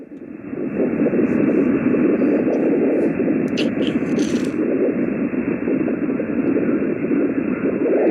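A loud, rushing radio static from an amateur radio receiver fills the air, a dense noisy hiss that wavers and sweeps continuously, with faint higher chirps briefly above it.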